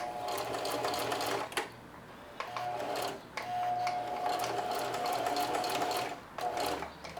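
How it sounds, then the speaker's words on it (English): Sewing machine back tacking a straight stitch on apron straps, whirring in steady bursts with short pauses between runs, close and clear, with no talking. "then of course I am going to back tack on that"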